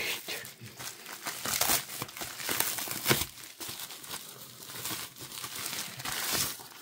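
Packaging cut away and unwrapped during an unboxing: close, irregular crinkling and crumpling of plastic and paper with occasional tearing, busy and fairly soft, no talk.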